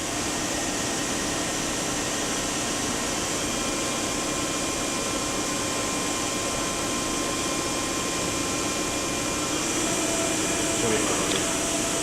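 Daewoo Puma 200LMSA CNC turning center with its main spindle spinning at 2,000 RPM, a steady broadband machine whir and hum holding evenly throughout with faint tonal lines, no break in the running sound.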